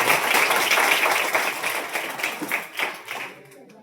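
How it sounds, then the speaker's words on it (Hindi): Applause from an audience at a Tiranga Yatra gathering in honour of people selected for the police, dense loud clapping that thins out and fades over a few seconds. "एक बार इन सबके लिए जोरदार आप लोग ताली"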